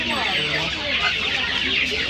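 Young silkie chickens, 1.5 months old, at a busy poultry and pet market, packed together in a constant overlapping flurry of shrill peeps and clucks, loud and near with crowd murmur underneath.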